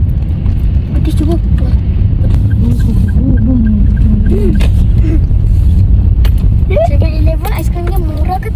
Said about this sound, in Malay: Wah, banyaknya kereta.